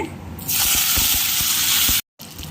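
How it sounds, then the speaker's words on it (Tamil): Mustard seeds and chana dal hit hot oil in a pan, setting off a loud, steady hiss of frying with faint crackles that runs for about a second and a half before cutting out abruptly. "கொஞ்சமாக கடுகு போட்டுக்கிறேங்க பொரியட்டும் கூடவே எடுத்து வச்சுருக்க கடலைப்பருப்பு பருப்பு போட்டுட்டேங்க"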